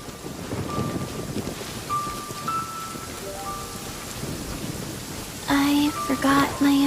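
Steady rain pours in the video game Genshin Impact, a constant broadband patter that fills the whole scene, joined near the end by a brighter burst of tonal game music chimes.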